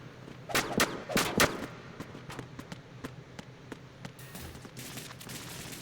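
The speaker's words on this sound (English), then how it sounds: "Oh, gunfire, huh?" Gunfire in the Metal Gear Solid 2 video game: a few sharp bursts of shots cluster early on, then scattered fainter reports follow over a steady background.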